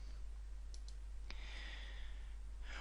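Several faint, sharp clicks of a computer mouse in a quiet room, two quick ones close together followed by a single louder click a moment later.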